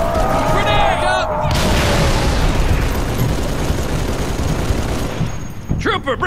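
Grenade explosion in Halo 3 ODST, a loud boom with a long rumbling roar that fills most of the clip, with a voice speaking at the start and again at the end.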